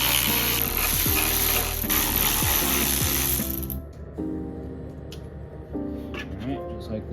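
A ratchet working bolts loose on a Subaru WRX during a teardown, rapid clicking bursts close by and fairly loud, with broadband air-tool-like hiss early on, then sparser clicks with speech alongside.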